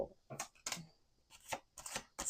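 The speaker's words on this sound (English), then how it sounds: "Okay, one more shuffle." A deck of tarot cards is shuffled in a few quick, crisp riffling bursts with short gaps between them, close and quiet, with no talk.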